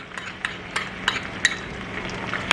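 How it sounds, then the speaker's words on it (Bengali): Ginger and garlic paste frying with softened onion over low heat, a steady gentle hiss broken by light, regular clicks of a spatula stirring in the pan. "এবারে আদা রসুন বাটাটাকে পেঁয়াজের সাথে ভালো করে আরও 3 থেকে 4 মিনিট অল্প আঁচে আমরা ফ্রাই করে নেব"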